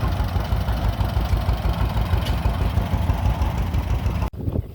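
A nearby two-cylinder tractor engine runs with a loud, uneven chugging rhythm for several seconds, then stops suddenly, giving way to faint ambient sound, at a threshing show.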